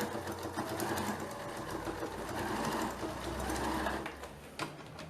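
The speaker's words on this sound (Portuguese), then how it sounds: "Ó, fiz uma costura com pé de máquina, viu, pessoal?" A sewing machine with a presser foot runs a seam on a handmade bag, giving a steady close mechanical whir and needle clatter that slows and pauses near the end.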